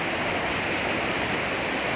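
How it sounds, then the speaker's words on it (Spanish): The Meléndez river near the aqueduct intake rushes steadily, a loud and continuous broadband roar with no voices. "así está el río Meléndez acá"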